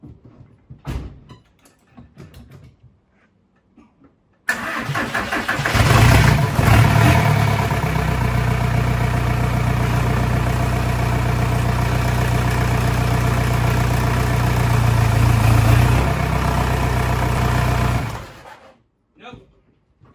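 A car with a hard-starting engine cranks and catches after a short quiet stretch with a few knocks, then settles into a loud, steady idle that runs for about fourteen seconds and cuts off near the end.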